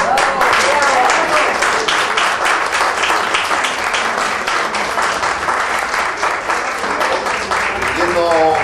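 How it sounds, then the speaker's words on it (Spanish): Sustained audience applause for an artist at a Bolivian Independence tribute event, steady dense clapping throughout with a voice briefly heard over it at the start and end. "Un aplauso para él."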